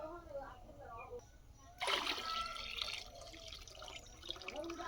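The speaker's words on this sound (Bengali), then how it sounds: "এর মধ্যে হালকা হাতে আস্তে আস্তে ধুয়ে নিতে হবে, কয়েকবার পানি পাল্টে পাল্টে" Rice washed by hand in water in a village home, with a burst of splashing and sloshing in the middle, then quieter drips and swirls, all under continuous talking.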